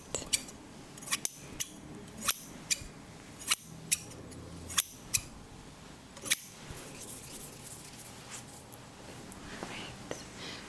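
Scissors snip close up in a soft, quiet Reiki ASMR setting: a dozen or so crisp metallic cuts, irregularly spaced and fading out after six seconds, over faint whispering.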